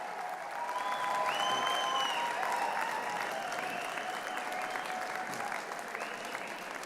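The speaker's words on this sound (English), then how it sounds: "Wave and cheer, make some noise, show some support and encouragement." Graduates at a University of Calgary convocation ceremony applaud and cheer together, a loud, sustained wash of clapping with whoops and shouts from the crowd that fades slightly toward the end.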